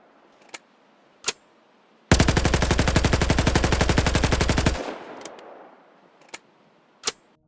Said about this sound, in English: We then have the AUG Para, which is a criminal mechanic-only weapon